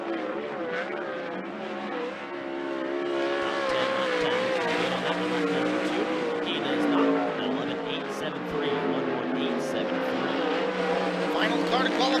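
360 sprint cars qualifying on an oval speedway, a loud sustained engine roar that rises and falls with the laps, heard with an announcer talking over it throughout.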